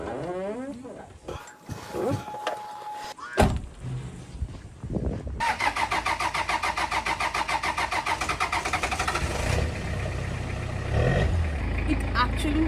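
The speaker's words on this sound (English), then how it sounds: "This engine is powered by fuel made of plastic waste." A diesel car engine running on fuel made from plastic waste cranks and starts, then settles into a loud, steady, rhythmic idle that continues to the end, with talk at the start.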